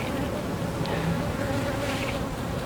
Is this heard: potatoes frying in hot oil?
no